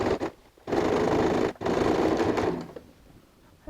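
A sewing machine runs in close, loud bursts as it stitches a quilted cross-body messenger bag with a zip closure, with a brief stop midway before a second run that trails off into quiet.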